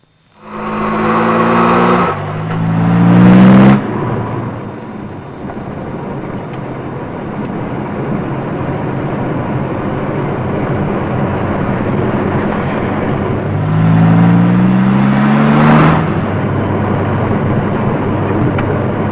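Car driving along a road, a steady engine and tire rumble that holds throughout, with two rising engine sweeps, one near the start and one later on, close and loud.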